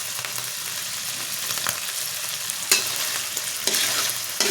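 Scrambled egg with tuna flakes and corn kernels sizzles in a frying pan while being stirred, a steady close frying hiss broken by a few sharper scraping strokes of the utensil.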